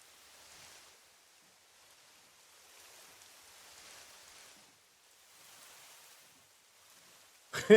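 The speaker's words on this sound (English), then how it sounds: "Rain!" Soft, faint rain in a video game patters in gentle swells that rise and fall, ending with a sudden short loud burst.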